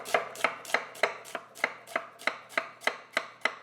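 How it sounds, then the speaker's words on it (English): A knife chops fennel on a cutting board in twelve evenly spaced, crisp knocks, close up and clear with no voices. "So slice that in half, slice this again, and chop it on down."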